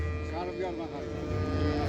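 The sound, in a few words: cow mooing at a livestock market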